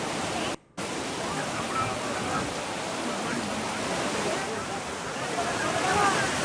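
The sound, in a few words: rushing floodwater torrent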